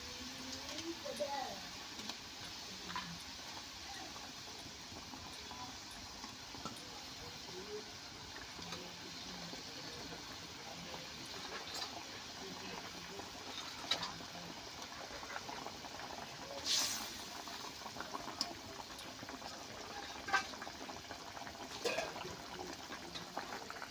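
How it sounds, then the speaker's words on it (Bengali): Mustard hilsa curry gravy bubbling steadily in a pan, a continuous dense boiling hiss with small pops and crackles throughout, moderately close and unbroken. "ঝোল ফুটে উঠেছে"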